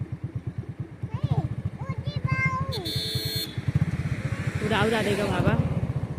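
A motorcycle engine runs steadily with a fast, even throbbing on a dark road during an outing, while a car waits nearby. People talk over it throughout.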